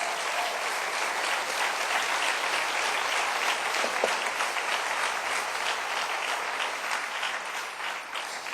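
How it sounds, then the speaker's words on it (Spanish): A church congregation claps in sustained, dense applause that stays loud and even from start to finish, with a faint tone and no speech over it. "dale un aplauso al Rey"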